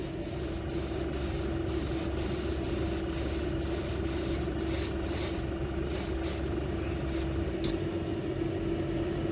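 Airbrush laying down a thin coat of fabric paint, a close, continuous hiss of spray over a steady compressor hum, broken by short regular pulses of the trigger, with no voices.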